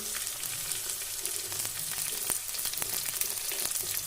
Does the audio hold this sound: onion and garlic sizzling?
yes